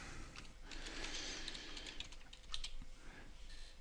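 Keys clatter on a computer keyboard as a computer name is typed during a Windows 7 installation. The taps are quick, soft and close, running steadily throughout.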